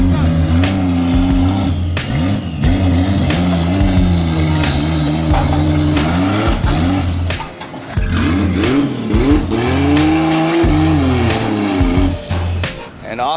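A 2JZ-swapped Ford F-150 pickup truck drives off, its engine loud and close throughout with rising and falling revs and steady low rumble, dipping briefly before picking up again.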